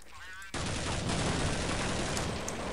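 Gunfire in the Counter-Strike video game bursts in abruptly after a brief quiet moment, a dense, loud volley that continues steadily to the end.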